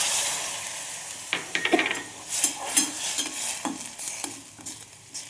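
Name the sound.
water poured into frying pan, sizzling and stirring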